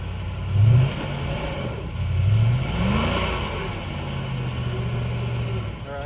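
A Lexus GX470 works off-road, its engine revving in uneven surges while the high-side tires spin, with a low, rising drone that swells and eases across several bursts.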